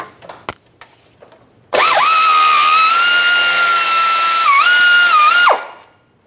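A power tool runs on an 18mm socket, removing a sway bar link bolt on a 2000-2006 Chevrolet Tahoe. A few faint knocks come first, then a loud, steady high whine lasts about four seconds, dips briefly, and cuts off.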